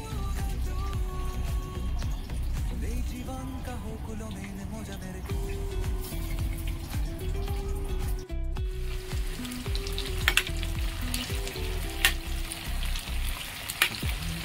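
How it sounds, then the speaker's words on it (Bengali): Potato pieces deep-fry in plenty of hot oil with a loud, steady sizzle and bubbling, while someone talks over the cooking noise. "দেখো কত ডুবো তেলের মধ্যে আলু ভাজছি"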